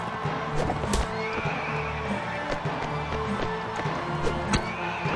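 A horse neighs loudly in the Mount and Blade Warband video game, amid a battle with clopping hooves and clashing sounds; a sharp whinny rises near the start and then fades into continuous combat noise.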